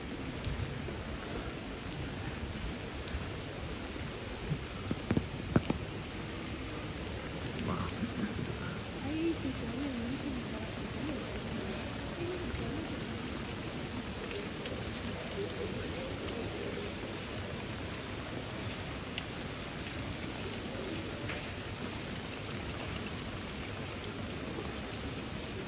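Steady rain falls on a street in Genoa's historic center, a continuous broadband hiss lasting throughout with a few brief louder knocks and soft background murmurs.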